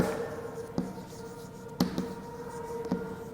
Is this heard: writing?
yes